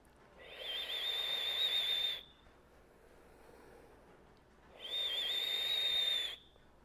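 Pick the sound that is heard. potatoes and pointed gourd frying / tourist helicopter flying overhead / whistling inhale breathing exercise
whistling inhale breathing exercise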